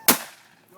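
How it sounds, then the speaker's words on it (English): A single loud gunshot fired at a wild hog during a hunt, sharp and close, with a fast decaying tail into near quiet. "We're going to shoot again."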